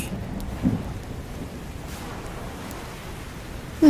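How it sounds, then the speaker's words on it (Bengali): A thunderstorm with heavy rain roars as a dense, steady wash of rainfall, with a faint rumble of thunder early on and a sudden louder burst at the end. "তারপরই শুরু হলো তুমুল ঝড় বৃষ্টি।"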